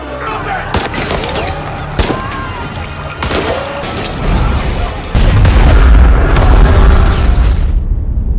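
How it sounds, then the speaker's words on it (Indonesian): An aircraft fuel tank explosion booms and rumbles, with sharp cracks and pops, then a heavy roaring blast swells and fades under dramatic background sound. "ledakan hebat pun terjadi"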